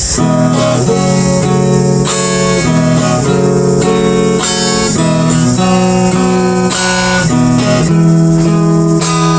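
An acoustic guitar is strummed in a steady, continuous pattern, with chords changing every second or so, loud and close with no voices.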